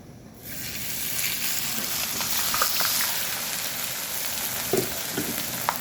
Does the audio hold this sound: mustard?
yes